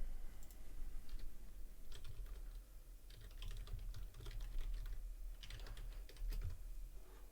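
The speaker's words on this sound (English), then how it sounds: "Yes, you do hear typing" Steady keyboard typing, quick clicky keystrokes in uneven bursts with short pauses, fairly close and quiet, no voices.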